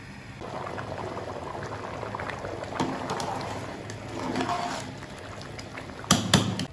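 Water bubbles and churns at a rolling boil in a cooking pot before rice is added for beef pulao, a constant gurgling hiss with occasional louder pops and a small clatter near the end.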